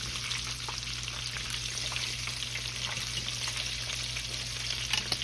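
Shrimp fry in hot oil for old-school crispy fried shrimp, a steady dense sizzle and crackle running without a break, fairly close and even in level with scattered sharper pops.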